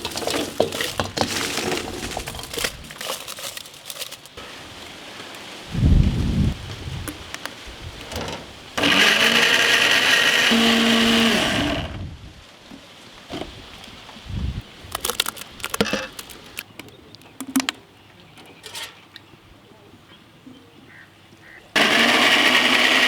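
A kitchen mixer grinder whirs in loud bursts while grinding tamarind paste for a whole tamarind chicken fry, with pauses of clattering and handling noises between the runs.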